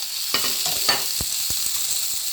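Seasonings sizzle in hot oil left over from frying shrimp for a Jamaican-style coconut shrimp pasta, a steady close hiss broken by a few sharp crackles and spatters, with no talking.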